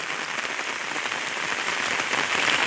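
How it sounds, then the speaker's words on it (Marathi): Pre-monsoon rain pours steadily on a village, a broad, even hiss of drops on surfaces, fairly loud and close, with no voices. "आज हा वळवाचा पाऊस त्या व्हिडिओच्या रूपाने मी आपल्याला दाखवण्याचा प्रयत्न करतोय"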